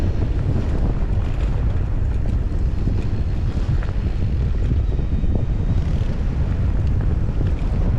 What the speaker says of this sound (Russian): Да, в основном всегда тут ветер.